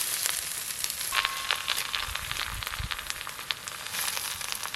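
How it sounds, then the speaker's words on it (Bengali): Sushni greens frying in a pan with chopped onion and dried chili, a steady, close sizzle and crackle running throughout with no voices. "এবার বেছে ধুয়ে রাখা সুজনি শাকগুলো দিয়ে দেব।"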